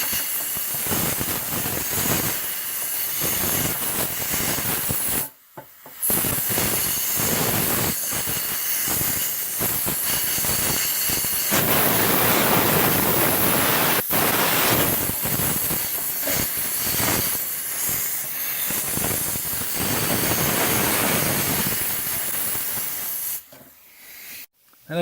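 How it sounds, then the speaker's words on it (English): Compressed air from a hose roars in a steady, loud hiss inside a rusty fuel tank from a Sportfisher 5 hp outboard, driving a sock around the metal walls, with two brief cut-offs. "The air hose is running that sock around the inside of it all over the place."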